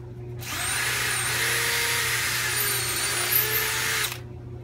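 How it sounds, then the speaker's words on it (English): A power drill bores into pallet wood framework while fitting supports for a range hood, one steady, loud whine that runs for about four seconds with no talk over it. "And then drill."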